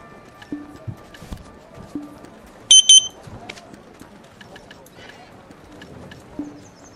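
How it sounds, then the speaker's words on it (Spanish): A computer's warning beeps as one processor core hits 80 degrees: short, sharp electronic tones in a brief cluster, with faint clicks and low repeated tones scattered around them. "suena un pitido porque uno de los núcleos pilla ya 80 grados"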